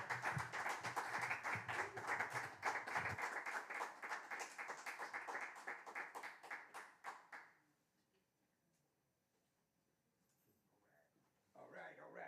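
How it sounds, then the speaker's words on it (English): Applause for a trombonist before a solo concert in Harlem, a small audience clapping briskly for several seconds before it dies away into quiet, followed by a voice. "Please give her an applause."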